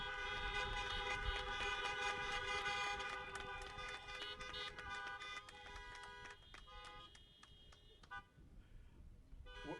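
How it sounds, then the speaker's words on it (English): Car horns honking at an outdoor drive-through high school graduation ceremony, several overlapping sustained toots from many vehicles at a distance, ringing on together and then thinning out toward the end. "Let's honk those horns."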